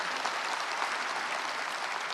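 A church congregation claps during a Sunday sermon, a steady, dense wash of applause from many hands filling the whole stretch without any voice over it.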